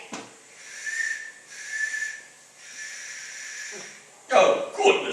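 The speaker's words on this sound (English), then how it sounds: "Blow the whistle quick, Jimmy." A little whistle is blown in three thin, breathy toots of moderate loudness, each about a second long, followed by voices talking briefly at the end.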